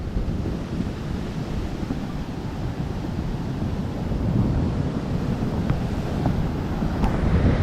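Sea waves eroding a shore right beside houses, a continuous heavy rumbling wash of surf mixed with buffeting wind on the microphone, swelling slightly louder toward the end.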